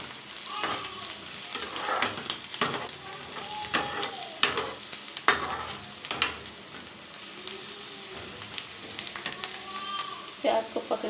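Onions sizzle and fry in a small pan, a steady close crackle broken by frequent scraping stirs, with faint voices in the background.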